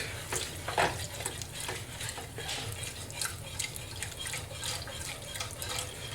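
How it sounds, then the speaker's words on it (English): Milk is poured into a bechamel roux in a saucepan while it is stirred, giving a steady wet swishing and faint bubbling with light spoon scrapes, close and without talk. "And so let's add some more milk."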